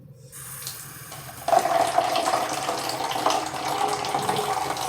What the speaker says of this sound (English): Fill my cup with some water to rinse it in